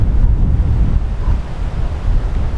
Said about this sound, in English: This wind is howling right now.